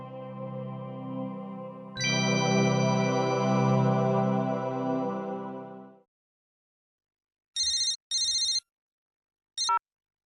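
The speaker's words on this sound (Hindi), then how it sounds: "जी एक मिनट, तुम्हारी मम्मी का फोन है।" A mobile phone ringtone plays a sustained bright melodic tone for several seconds, then stops, followed by a few short repeated electronic beeps after a pause.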